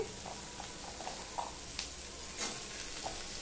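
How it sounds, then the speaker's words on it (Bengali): Cut potatoes going into a pan of frying onions and garlic produce a steady, moderate sizzle with scattered stirring taps and scrapes, and no talking. "এবার আমি যে আলুটা কেটে রেখেছি সেই আলুটাও আমি দিয়ে দিচ্ছি।"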